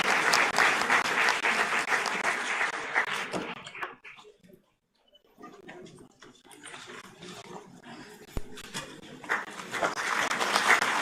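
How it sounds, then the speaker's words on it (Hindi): Loud, dense applause from an audience at a World Food Safety Day event fades out into near silence, then scattered clapping returns and builds again, with some voices underneath. "जोरदार तालियां।"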